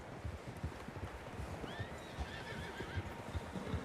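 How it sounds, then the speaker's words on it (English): Horses in the Red Dead Redemption 2 video game, a whinny rising over steady hoof clip-clops from several animals, moderately distant and fairly quiet. "Horses, quite a few of them."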